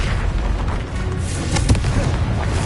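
A Confringo fire-explosion spell in Hogwarts Legacy bursts with a dense booming blast and crackle, loud and close, filling the short moment with a rolling roar.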